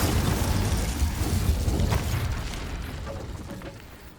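Incendio fire spell cast in the video game Hogwarts Legacy, a loud, rumbling burst of flame and crackling impact that starts at once and slowly fades over a few seconds, with no talk.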